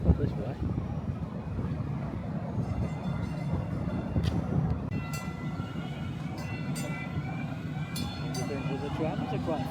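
A tram rolls past on a Dallas street, a steady rumble with rail clatter and brief high squeals, fairly close, over traffic and wind noise.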